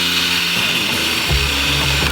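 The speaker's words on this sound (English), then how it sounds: "we're going to drill a hole straight in the centre" A power drill bores a hole straight through the centre of a mountainboard deck during a restoration, giving a steady, loud mechanical whir with a ratcheting edge that holds for the whole stretch.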